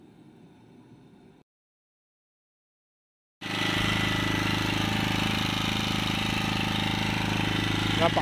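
A four-stroke generator engine, newly repaired after carburetor cleaning, starts after a silent pause and runs loud and steady with a smooth, even idle that carries on to the end.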